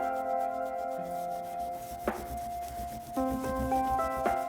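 A magic eraser scrubs smudges from the surface of a camp cooler in steady, close rubbing strokes, with a few sharper scraping bursts.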